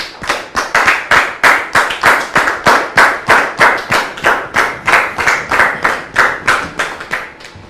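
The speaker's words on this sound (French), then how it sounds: "je vous demande de recevoir Dame Colbert, s'il vous plaît, sous vos applaudissements." A live audience claps in unison at a French-language show, a strong rhythmic beat of about three claps per second, loud and regular, fading slightly at the very end.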